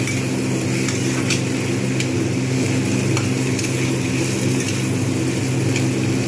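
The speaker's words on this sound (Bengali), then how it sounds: "ভালো করে এটাকে ভেজে নেব।" Bitter gourd fries in a small amount of fish oil, a loud, steady, close sizzle that goes on without a break under a faint utensil scrape.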